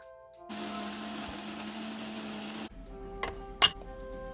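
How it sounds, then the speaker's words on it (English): A Smoothie Elite blender crushes frozen fruit with yogurt and milk, a loud steady whir for about two seconds that stops abruptly, then is followed by a few clinks of glass or dishes. "We have a Smoothie Elite, but you can use any blender to break up that frozen fruit"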